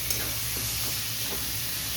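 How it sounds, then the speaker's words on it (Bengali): Minced chicken sautéing in a hot pan for a chicken singara filling gives a steady, close sizzle and hiss that runs on without break, with no voices over it. "এখানে কিমাটা কষানো হবে ভালো করে"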